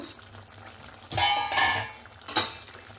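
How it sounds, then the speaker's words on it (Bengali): A metal lid comes off a pot of cooking potatoes and drumstick stems, giving a couple of close clanks and scrapes. Quiet sizzling continues underneath. "এবার ঢাকনাটা খুলে নেব।"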